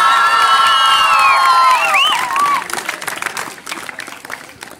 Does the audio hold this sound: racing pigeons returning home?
no